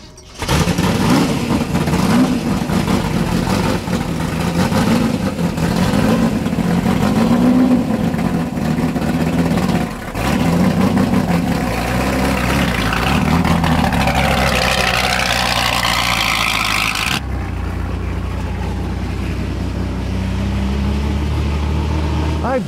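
Ford GT40 race car, the 1966 Le Mans-winning type, driven at speed on a track for hot laps; a loud, continuous engine roar with rising and falling revs and gear changes, then a lower, steadier drone near the end.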